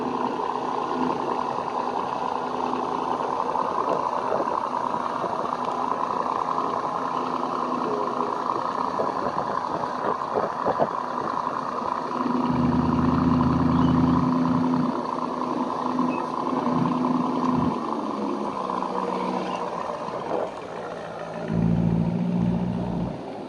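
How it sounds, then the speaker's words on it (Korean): A Lamborghini Urus engine rumbles steadily nearby, its exhaust swelling louder in a couple of throaty revs before settling back to an idle. "배기음이 장난이 아닙니다"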